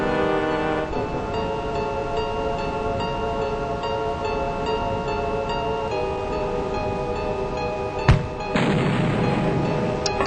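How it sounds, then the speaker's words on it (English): An alien fires a thermal shock launcher in Terror From The Deep, a single sharp blast followed by a brief roaring burst, set against a steady tonal background drone. "that alien using its thermal shock launcher to the best of its ability by just firing it directly at the seal anchor"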